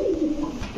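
Pigeons at a farm selling Pakistani Rampuri, Teddy and Saharanpuri breeds, giving a brief low throaty coo up close, a single rolling call over a faint background murmur.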